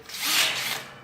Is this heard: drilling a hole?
yes